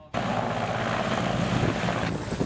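Military helicopter on the ground at a mountain outpost, arriving with winter supplies: a loud, close, continuous rotor and turbine roar with steady broadband wash and a low beating pulse, holding evenly from start to end with no voices.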